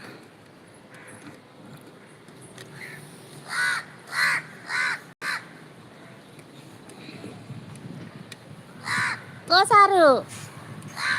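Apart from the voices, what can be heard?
crow cawing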